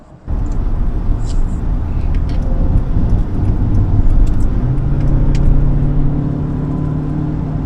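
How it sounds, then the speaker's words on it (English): A Mercedes C200K W203 sedan cruises at speed, with steady low engine and road rumble and a constant cabin hum that holds without breaks. "The car drives very nicely"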